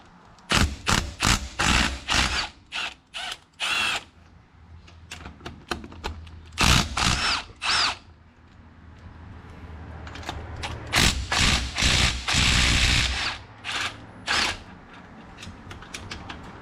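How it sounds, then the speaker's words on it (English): Bursts of an impact gun or ratchet tool loosening the differential carrier bolts on a 1966 Impala 12-bolt rear axle during a Yukon Dura Grip posi swap, a rapid series of loud, clattering mechanical rattles separated by short pauses. "Okay, let's unbolt the carrier."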